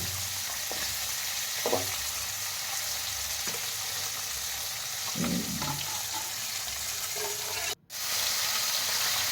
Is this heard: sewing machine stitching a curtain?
no